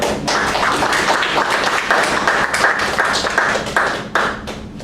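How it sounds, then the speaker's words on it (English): A Toastmasters table topics session audience claps for David, a lively round of many hands close by, steady for several seconds before thinning out at the end. "Round of applause to our David."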